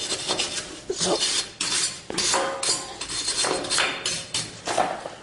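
A brake hub surface is scrubbed to remove corrosion before a rotor is mounted, giving rapid, rough rasping strokes up close in an irregular rhythm, with a brief spoken word near the start.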